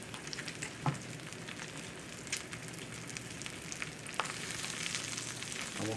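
Cabbage frying in a cast iron pan crackles with a soft, continuous sizzle. A few sharper pops and ticks rise above the quiet, even hiss, and no one speaks.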